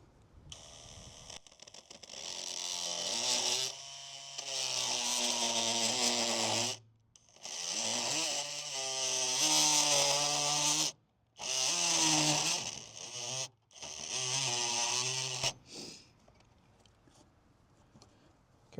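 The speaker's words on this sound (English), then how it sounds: "Take our multi-tool." An oscillating multi-tool cuts into an RV's skirting area during a safety rail install, buzzing loudly and continuously in several long bursts separated by brief stops, close to the listener.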